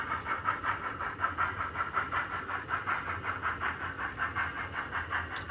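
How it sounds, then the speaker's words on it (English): A model J26 locomotive hauls a string of wagons around a model railway, giving a soft, steady, rhythmic clicking pulse with faint hiss, fairly quiet and close, and no talking. "It's also a little bit of a test of the J26 for how well it copes with a slightly longer train."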